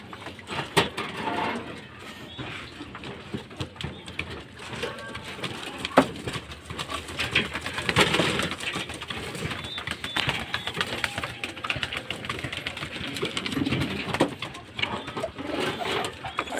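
Racing pigeons coo softly amid a busy, crackly background of rustling and mechanical clatter, faint and continuous, with occasional voices in the distance.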